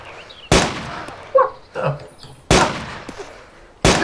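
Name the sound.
gunshots in the video game DayZ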